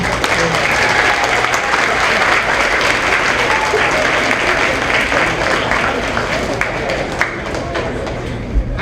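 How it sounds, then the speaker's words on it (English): A school audience applauds at a Stevenson fifth-grade promotion ceremony, a loud, continuous crowd clapping that holds for nearly nine seconds, with a few sharper individual claps standing out from the steady roar. "Let's give a round of applause to all the people in the audience who have supported you in your elementary school."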